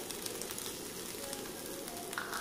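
Spice powders fry in a pan in an even, close sizzle with a soft crackle that stays steady throughout.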